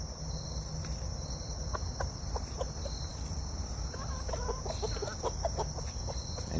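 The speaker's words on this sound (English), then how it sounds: "Making all of the happy little chuckle clucks for his girls." A rooster makes soft, happy chuckling clucks to his hens in a backyard coop, a series of short, low, irregular clucks at moderate distance over a steady background of insects and crickets.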